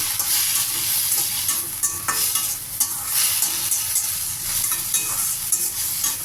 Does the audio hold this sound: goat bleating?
no